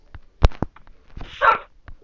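A few short dog barks and yips in Minecraft, one sharp bark standing out, followed by a brief whiny bark; close and somewhat game-like.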